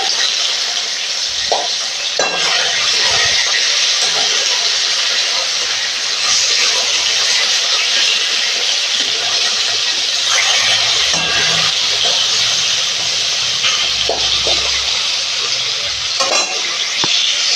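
Continuous loud sizzle of fish frying, with occasional clinks and stirring knocks, heard up close; no clear sound of boiling rice stands out.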